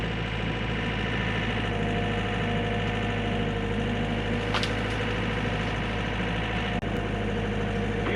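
An excavator engine runs steadily at close range with a continuous heavy drone, a brief throttle rise and a single sharp knock late in the clip.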